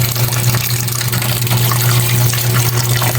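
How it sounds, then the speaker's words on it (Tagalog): Water pouring or running steadily from a tap into a bowl of kangkong being soaked for an omelette, a loud, close, continuous rushing splash with no talk. "Lagyan pa natin ang tubig."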